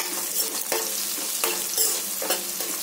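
Onions fry with salt in a pan for a halwai-style suran sabzi, hissing steadily and loudly while a utensil stirs with periodic scraping strokes.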